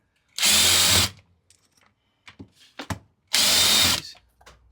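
A power tool taking apart the clutch on an RD500 engine: two short, loud, close whirring bursts, with small clicks and handling sounds of metal parts in between.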